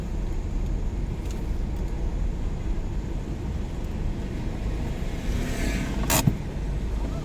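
Steady road traffic with cars passing on a busy street, a continuous low rumble with a brief louder swish near the end; no one talks.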